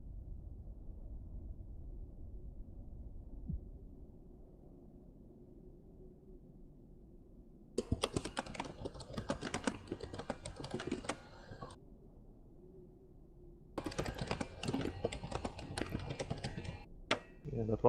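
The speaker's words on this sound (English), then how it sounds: "that was some anger typing" Bursts of fast, forceful typing on a computer keyboard clatter in two loud stretches, with quieter background hum between them.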